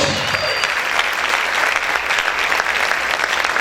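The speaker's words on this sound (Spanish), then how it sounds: "Aplaude fuerte a tu Dios" A congregation at a church service applauds loudly and steadily, a dense wash of many hands clapping that fills the whole stretch with little letup and a faint crowd murmur underneath.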